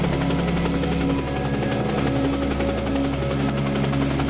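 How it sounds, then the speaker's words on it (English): A news helicopter flies over the Everglades, its steady loud rotor thump and engine drone continuous throughout, close and unbroken. "See where that chopper's flying?"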